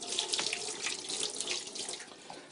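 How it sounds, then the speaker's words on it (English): Tap water runs steadily into a sink for hand washing before preparing smoked salmon, a continuous close splashing hiss with no talk. "So I'm going to wash my hands here."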